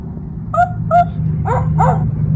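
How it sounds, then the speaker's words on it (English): A farm dog named Bingo gives four short barks in two pairs, the latter pair more whimpering and yippy, over a steady low hum. "I hear Bingo, the farm dog."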